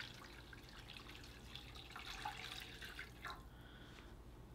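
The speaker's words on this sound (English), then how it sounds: "now we're going to pour in our chicken broth" Chicken broth is poured into a Cajun seafood sauce in a kitchen, giving a soft, continuous liquid trickle with faint splashy detail, fairly quiet and without talk.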